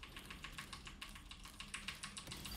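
A single computer keyboard key is pressed again and again in fast, uneven bursts, the clicks close and steady for the whole stretch with no talk over them.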